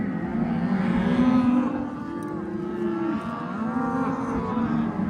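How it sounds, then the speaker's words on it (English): Cattle lowing during a big pasture move on a Colorado family ranch, several long drawn-out moos overlapping one another, fairly close and loud over faint outdoor background noise. "we're just riding through all the cows right now, looking at everything"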